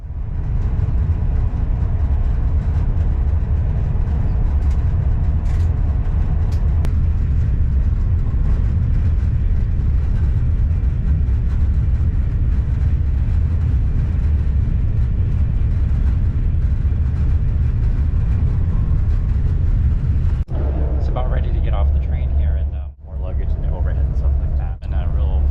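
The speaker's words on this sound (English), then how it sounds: "There goes the train." A train pulls out of a station in Korea and runs steadily on the Busan–Seoul line, giving off a loud, sustained low rumble and rolling noise that cuts off near the end, with quieter sounds following.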